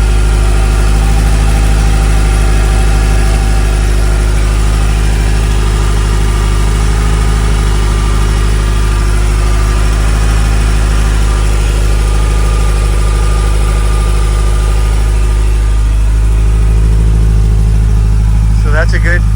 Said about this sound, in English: let's go take a closer look at that engine and get a good listen to it